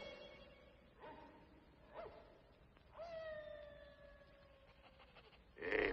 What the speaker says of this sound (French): C'est Pongo, de Régence Park, alerte générale des chiens